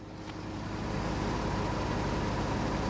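A Porsche-badged 3.2 VR6 4x4 family wagon revs from a standstill, the engine swelling into a steady, loud, sustained drone that holds for a few seconds.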